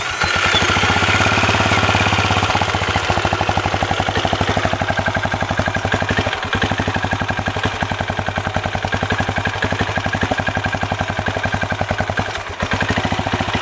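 Benelli Imperiale 400 motorcycle idling with an idle RPM problem, a loud, close, steady rapid thumping with a faint irregular wobble in the beat, running throughout.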